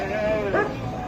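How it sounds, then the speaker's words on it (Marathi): A sheep or goat in a mixed flock gives a single clear bleat partway through, heard close by over a steady outdoor background. "मेंढ्या शेळ्या सगळ्या चालल्या तिकडे आमच्या इकडे"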